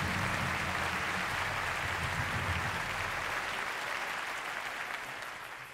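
A concert audience gives the orchestra and its drummer a sustained round of applause, dense clapping from a large crowd that slowly fades toward the end.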